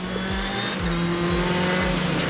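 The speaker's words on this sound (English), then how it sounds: "No longer allowed to drive the DS3 himself, Petter hands the controls to his co-driver Chris Patterson, giving him a driving lesson on the way to the stage start." A Citroen DS3 rally car drives on the road toward a WRC stage start, its engine buzzing loudly from close by with rhythmic revving pulses and a steady whine.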